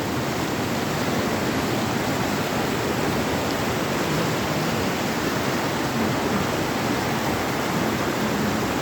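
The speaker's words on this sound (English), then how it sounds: "It's literally water is flowing over from here." River water flows over a temporary bridge in Odisha, a constant loud rushing wash that stays even from start to finish, with no voices.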